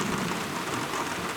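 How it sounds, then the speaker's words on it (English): Heavy rain pours steadily onto a roof and yard of a house, a dense, loud, continuous hiss with no pauses and no voices. "It's raining pretty good right now."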